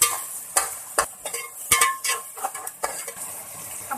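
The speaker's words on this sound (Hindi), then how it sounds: "1 टेबलस्पून लहसुन अदरक का पेस्ट डाल देंगे। इसको 30 सेकंड के लिए भून लेंगे।" Ginger-garlic paste frying with spices in a pot, with a soft sizzle under repeated sharp metallic clinks and scrapes of a spoon stirring against the pot, close and uneven in rhythm.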